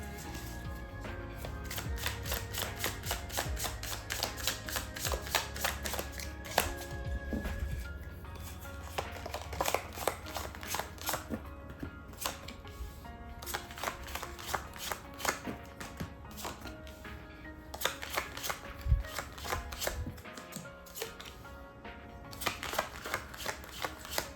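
Tarot cards shuffled and dealt out one by one for a four-card reading, giving soft papery flicks and light taps in a steady run over quiet background music, with no talking.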